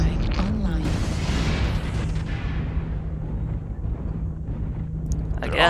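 A video game airstrike explodes in a heavy, rumbling boom that decays slowly over several seconds, loud and close, with a voice speaking over it.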